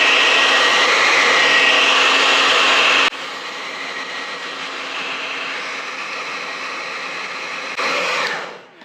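A heat gun on its high setting blows a steady, loud broadband rush at a Lexan polycarbonate RC car body; the airflow drops to a slightly lower level partway through, then swells briefly before cutting off near the end.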